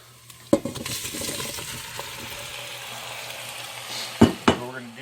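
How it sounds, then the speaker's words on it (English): Onions, tomatoes and garlic sizzling and stirred in a hot pan for homemade pizza, a steady frying hiss with a few loud clanks of utensil on metal near the start and end. "we're going to toss those onions with the tomatoes and garlic"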